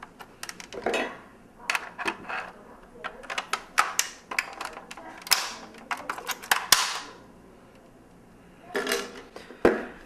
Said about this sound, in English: and then you just cut. And you should just be able to break it off.